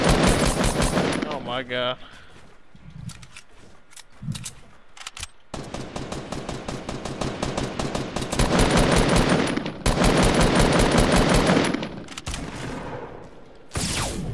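Rapid automatic gunfire in the video game Fortnite, long loud bursts of machine-gun fire that stop and start, with a voice exclaiming briefly in a pause between them.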